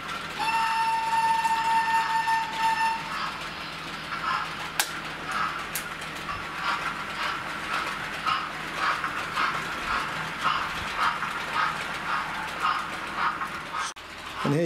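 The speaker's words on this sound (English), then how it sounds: "here you're going to catch the King's Class going around the corner." A small model King Class steam locomotive, King Richard II, runs steadily along its track with a continuous rhythmic clicking rattle and a thin whistling tone near the start, close-up with no talking.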